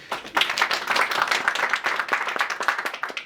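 An audience applauds at a Hungarian cultural television programme, steady dense clapping from many hands filling the room without a break.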